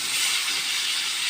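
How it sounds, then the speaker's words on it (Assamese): Ground spice paste of ginger, garlic, cumin and chilli sizzling in hot oil in a pan, a steady broad hiss with no break, close and fairly loud, in a village kitchen. "মছলাখিনি কেঁচা গোন্ধ নোযোৱালৈকে ভাজি থাকিম ইয়াত।"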